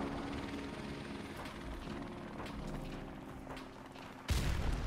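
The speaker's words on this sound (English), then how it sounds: "Alright, we got the chopper." Helicopter killstreak in Modern Warfare Remastered, a continuous rotor drone with scattered gunfire bursts and a louder burst near the end, no talk.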